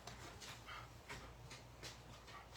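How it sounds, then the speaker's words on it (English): A dog barks indoors during a card-stamping class, giving about five short, muffled barks at a fairly regular pace, soft and somewhat distant over a low background hum. "No, don't bark, please."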